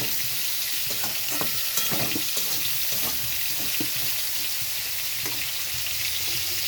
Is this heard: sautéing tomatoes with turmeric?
yes